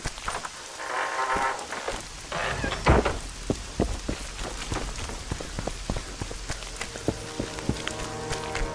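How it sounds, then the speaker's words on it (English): Steady rain in a video game falls on a hard surface, with a constant hiss and scattered sharp drips and taps throughout. "It's raining."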